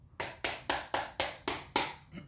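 Seven sharp, evenly spaced knocks land on a Crow Tarot card deck, each a crisp tap with a short decay, close and fairly quiet, with no talking.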